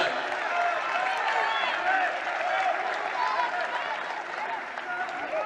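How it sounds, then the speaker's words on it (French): Bordeaux fans at a women's D1 football match against Paris FC applaud and chant as a player is substituted, a steady distant crowd roar with clapping and voices blended together. "vous avez laissé le petit chant et les applaudissements bordelais sur cette sortie"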